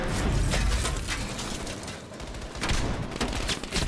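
Desert Eagle pistol fire in the Black Ops Cold War campaign: a burst of sharp, heavy shots in quick succession, then a brief lull before more shots. The gunfire sounds close and loud, with no talking.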